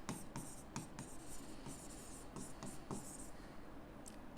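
Pen strokes of balance figures being written by hand on paper, a quick run of short scratchy taps and glides, close and fairly faint.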